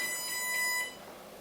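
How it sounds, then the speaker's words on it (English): An electric skateboard's speed controller gives its startup beep test, a high electronic tone with bright harmonics ringing out briefly, then falling quiet, leaving a soft hum. "The speed controller will do its beep test."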